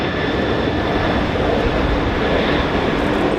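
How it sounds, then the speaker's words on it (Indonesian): A toy airplane emits a loud, steady droning engine-like roar that continues unbroken throughout, close to the listener. "Wadidaw, ada pesawat terbang teman-teman."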